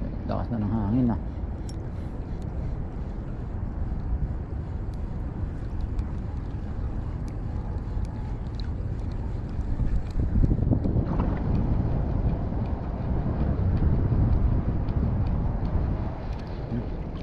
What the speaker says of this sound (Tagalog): Lakas na ng hangin ah.